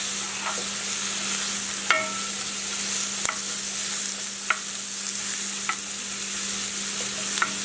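Chopped vegetables for a frittata sizzle and caramelize in a pan over medium-high heat, a steady loud hiss broken by several sharp clicks and scrapes of stirring.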